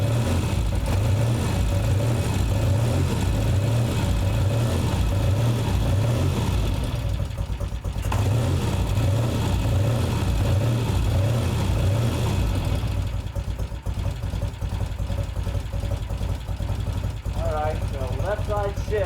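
A Norton motorcycle engine runs steadily after an electric start, a loud low rhythmic thumping idle that continues throughout, with a brief dip in the middle, while people talk over it.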